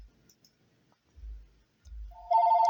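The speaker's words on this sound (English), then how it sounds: "And that's the phone, guys." A telephone rings with a warbling electronic tone that starts near the end, loud and close, after a few quiet clicks and soft low thumps.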